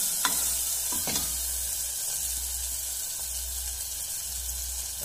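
Turmeric is stirred into fried tomatoes and green chillies in a pan, giving a low steady sizzle with a few spoon scrapes early on and a faint humming drone beneath, close and fairly quiet with no speech.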